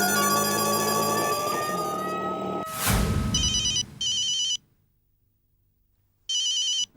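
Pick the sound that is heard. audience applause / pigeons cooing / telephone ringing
telephone ringing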